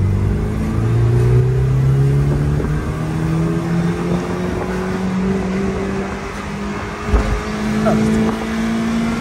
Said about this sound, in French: Tu veux une petite accélération?